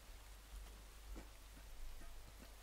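Steady rain patters in the video game Rain, a soft, even wash of falling drops at low volume with no voices over it.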